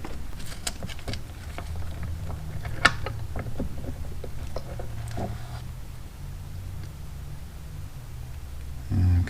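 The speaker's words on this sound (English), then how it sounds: "Let's see if I can pull this entire assembly out at once." Metal gear assembly being worked free of the left crankcase of a 1984 Honda Shadow 500 during a bearing replacement, with close, quiet mechanical clicks, creaks and light knocks against a steady low hum, and no talking.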